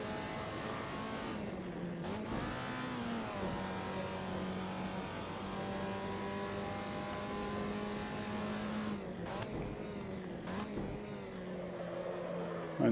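An Alfa Romeo 125 engine in Assetto Corsa on the Nordschleife strains uphill with its 5-speed gearbox, a steady droning note that dips and rises through a couple of gear shifts, fairly loud and alone.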